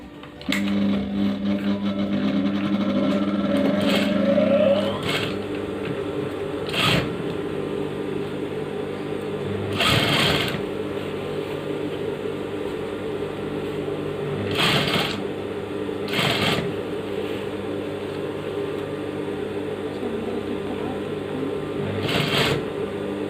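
A sewing machine runs steadily while stitching a shirt sleeve, its even whirring hum continuing for a long stretch, with a few louder bursts from fabric handling and machine adjustments and no speech.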